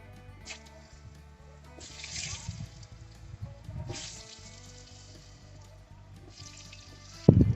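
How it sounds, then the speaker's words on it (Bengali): Potatoes fry in oil left over from frying fish, giving a steady low bubbling sizzle with a few brighter hissing surges and occasional stirring, heard close up with no voices until a sharp clatter at the very end. "মাছ ভাজার তেলেই আমি আলুগুলো ভেজে নেব।"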